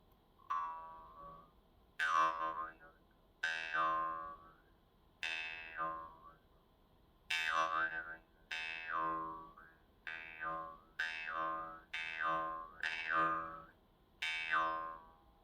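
Basic vargan jaw harp plucked about ten times at a steady, slightly uneven pace, each twang bright and buzzing with a quick vowel-like sweep before fading, close and alone without talk.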